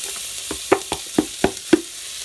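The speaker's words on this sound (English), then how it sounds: "we're going to slowly saute these until they get a little on the translucent side" Two onions in a smidgen of olive oil in a pot, a soft sizzle under a handful of sharp clattering stirs or tosses spaced about every quarter second, close and brief.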